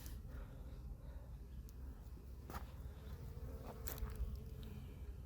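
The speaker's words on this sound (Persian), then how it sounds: "بذار جلوی این کندو رو هم برم ببینم" Honey bees buzzing at the entrance of a beehive early in the beekeeping season, a steady dense drone close by with a few louder individual passes, no talking.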